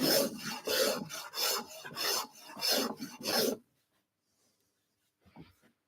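A hand scraper shaves wood in about eight quick rhythmic rasping strokes, close and clear, and a short faint scrape follows after a pause.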